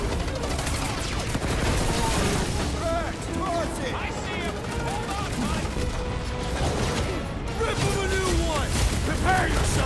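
A big gun fires in the space battle of the video game Guardians of the Galaxy, dense continuous loud blasts and rapid gunfire mixed with booms, with game voices talking over the barrage throughout.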